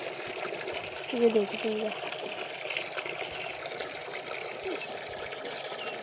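Water runs steadily from a motor-fed pipe on a goat farm, a constant rushing and splashing fill that continues beneath someone talking close by.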